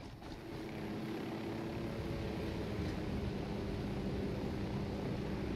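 A steady, droning helicopter engine and rotor hum from the game Ghost Recon Wildlands, loud and continuous with no speech over it.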